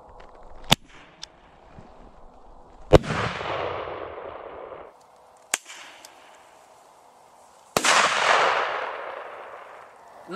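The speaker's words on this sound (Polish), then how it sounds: "Jeszcze jedna raca hukowa," A Lexon 11 blank pistol fires bang flares: several sharp, loud reports ring out at uneven intervals, two of them followed by a long roaring hiss lasting a couple of seconds before fading, with quiet gaps between.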